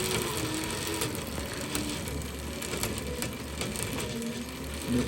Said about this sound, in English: Making a little noise. I don't know if it's like jumping the sprocket or what.